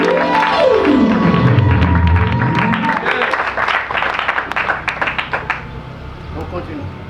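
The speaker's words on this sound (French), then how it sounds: "Est-ce qu'on peut applaudir?" Applause breaks out during a church consecration ceremony in Congo-Brazzaville, a sustained burst of crowd clapping that thins into scattered individual claps over a low background hum and a falling electronic tone.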